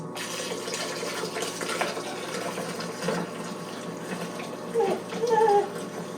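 A Honda gas-powered pump pushes water through a geothermal heat pump loop during flushing, giving a steady running, splashing rush of flowing water that holds throughout, with a few brief louder surges and gurgles near the end.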